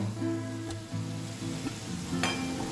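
Pointed gourd (potol) cooked with sesame crackles and sizzles steadily in a pan as its water boils away, a close, continuous frying hiss with a faint tonal hum beneath.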